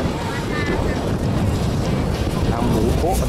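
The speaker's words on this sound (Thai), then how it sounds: "ลมแรงมากครับ" Strong wind buffeting the microphone on a beach at Khao Tao, a steady loud roar with surf-like rumble throughout, faint voices briefly in the background.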